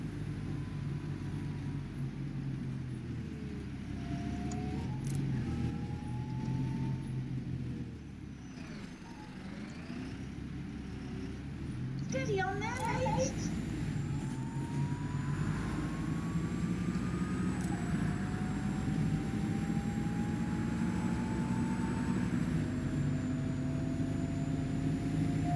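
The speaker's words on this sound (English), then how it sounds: "it's quite nice that driving the bus in the game, it's reflective of its heydays, and it's actually quite rapid" Optare Solo M920 bus in OMSI 2 driving a route, a steady rumbling engine and road drone with a brief dip around midway, then a rising whine, continuous and fairly loud with no talk.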